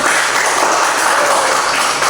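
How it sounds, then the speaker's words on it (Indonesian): A classroom group claps together in a loud, steady burst of applause lasting a couple of seconds, with no talking over it. "Beri tepuk tangan dulu untuk Anggun."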